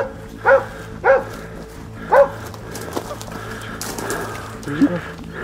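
A hunting dog barks at a bayed kudu in thick cactus bush in South Africa, giving three spaced, fairly loud barks followed by a fainter yelp, with birds calling in the background.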